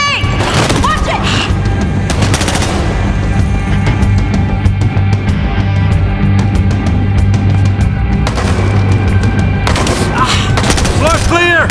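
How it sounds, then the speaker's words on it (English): Battlefield Hardline gameplay with rapid, loud gunfire crackling throughout and heavy booms from a grenade blast, all dense and close, with shouted voices mixed in. "They threw a grenade! Watch it!"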